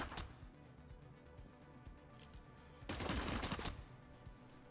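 Gunfire in the Cyber Knights: Flashpoint video game, a brief crack near the start and a second louder, longer burst of shots about three seconds in, heard over a low game ambience.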